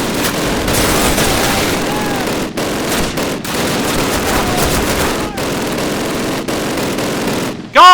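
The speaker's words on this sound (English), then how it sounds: "Grab that MG42 and use it." An MG42 machine gun firing in the video game Call of Duty, loud sustained bursts of rapid automatic fire broken by brief pauses, with blasts and battle noise mixed in and a short tone at the very end.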